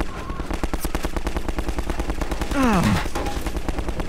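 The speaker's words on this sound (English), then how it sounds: "he's shooting at me!" Rapid sustained automatic gunfire in the first-person shooter Half-Life 2, a dense continuous burst of shots with a brief whooshing sweep partway through and a short spoken exclamation over it.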